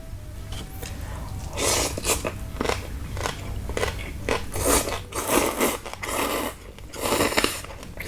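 Someone eats crispy pork with spicy Thai papaya salad, loud close crunching and biting in an irregular rhythm of repeated bites and chews, with no talk.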